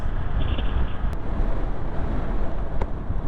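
Wind buffets the microphone on open rolling hills in Mindoro, a constant low rumbling roar with gusty swells and no voices.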